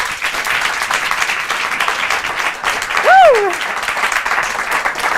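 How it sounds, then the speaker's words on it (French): An audience applauds a young woman making her first appearance on a French talent show stage, a steady wash of clapping with a voice speaking over it and a brief tonal swoop partway through. "Je vous demande d'applaudir mademoiselle Anne Cordin"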